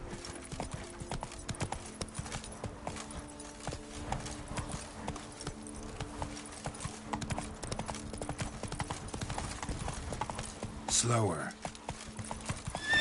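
Roach, the horse in The Witcher 3, galloping with a steady rhythm of hoof clops, joined by a short whinny near the end, while someone speaks briefly over it.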